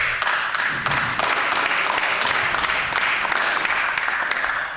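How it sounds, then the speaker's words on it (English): Members clapping in the Manitoba legislative chamber, a run of sharp, uneven claps from many hands that carries on steadily and eases off slightly at the end. "just wants to make sure the clapping was finished"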